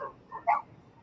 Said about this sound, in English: get your dog.